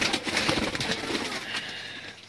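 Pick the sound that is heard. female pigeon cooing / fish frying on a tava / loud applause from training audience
female pigeon cooing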